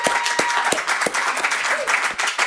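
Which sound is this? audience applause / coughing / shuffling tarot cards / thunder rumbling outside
audience applause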